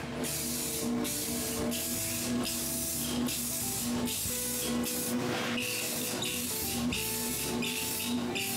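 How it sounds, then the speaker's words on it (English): Short bursts of lacquer spray hiss in a steady rhythm, about a dozen quick passes close by over a wooden cremation urn, with a faint hum underneath. "Then I spray the first coat."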